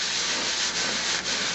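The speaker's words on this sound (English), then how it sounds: "we're just going to hold the piece down and sand" Hand sanding of a resin bangle bracelet makes a steady, close, raspy rubbing that continues without pause, with two brief dips as the stroke changes direction.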